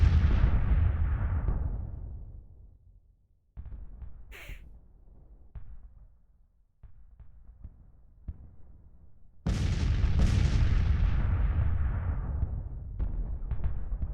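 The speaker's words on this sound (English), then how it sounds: "Yeah, he's already got some artillery on the field up there." Heavy artillery booms in the Grand Tactician strategy game, loud low rumbling blasts that decay slowly and sound at a distance, with quieter gaps between volleys and a sharp bird-like call in between.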